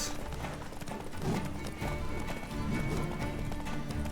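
Hooves clip-clop rapidly and steadily as a horse gallops in The Witcher 3 video game, mixed into a dense, busy game soundscape at moderate loudness.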